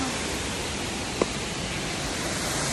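Twin Falls waterfall roars as a steady, dense wash of broadband water noise that fills the whole moment at close range, with only a brief faint tick partway through.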